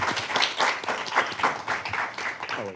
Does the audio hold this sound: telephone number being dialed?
no